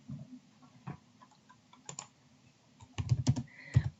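Keys clatter on a computer keyboard while custom phrases are typed into a communication app, starting as sparse light taps and then turning into a quick, louder burst of clicks near the end.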